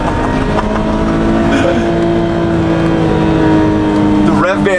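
A 1993 BMW M5 Touring's engine pulls hard at full throttle out of a corner, a loud, steady drone holding throughout with a brief rising rev near the end; a voice talks over it.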